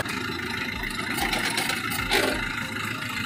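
Tractor engine running steadily with a broad mid-range rumble, fairly loud and continuous, with slight surges in intensity and no speech over it.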